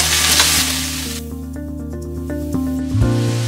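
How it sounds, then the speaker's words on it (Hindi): Lengthwise-sliced onions fry in hot oil in a pan, a loud, steady sizzle that crackles brightly at first and then settles into a lower hiss, with faint clinks of stirring and no voices. "उसमें हम डालेंगे लंबाई में कटा हुआ प्याज, प्याज को हम गोल्डन ब्राउन होने तक भून लेंगे।"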